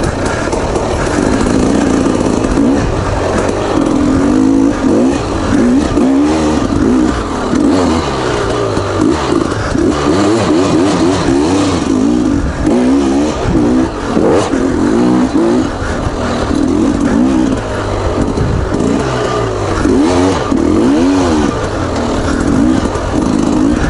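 Two-stroke 300 motorcycle engine revving continuously and loudly up close, its pitch rising and falling in repeated throttle blips throughout, with no talk.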